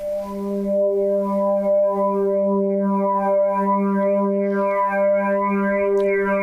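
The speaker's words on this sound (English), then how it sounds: "if we feed it into some effects, just like a chorus and a bit of flanger and a little bit of delay" A sustained, buzzy synthesizer tone sampled from an engine holds steady, thickened by swirling chorus and flanger sweeps with a spacey delay tail, no voices.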